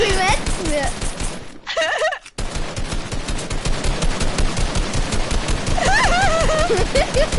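Rapid automatic gunfire in a video game rattles in dense bursts with a brief gap, while players talk over the shooting.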